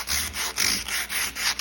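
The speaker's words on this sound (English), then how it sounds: "sanding along these little corners here. Got to resort to some manual power here." Sandpaper is worked by hand into the corners of a vintage Singer 15-88 sewing machine's wooden cabinet, a close, rhythmic series of dry rubbing strokes, about five passes in quick succession.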